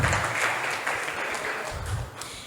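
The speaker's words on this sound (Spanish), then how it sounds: "Aplaudan al Señor si quieren." A church congregation applauds during a Spanish-language sermon, a soft, muffled wash of clapping heard from a distance, steady and low in level throughout.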